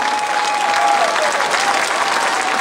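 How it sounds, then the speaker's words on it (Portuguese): Audience applause for the Filarmónica Idanhense band after its performance at the Feira Raiana 2015, a dense, steady burst of clapping from a crowd that carries through to the end. "quero manifestar e agradecer à Filarmónica Ivanhense, a quem peço mais uma vez uma grande salva de palmas por este magnífico espetáculo."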